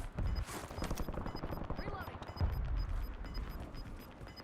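Sniper gunfire in a video game, with a sharp shot cracking out amid a dense, rattling game soundscape and a faint repeating tone, while a person talks over it.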